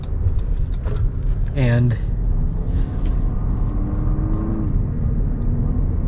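A 2026 Lexus NX 350's powertrain hums as a low, steady rumble of cabin and road noise while the car is driven, running continuously beneath someone talking throughout.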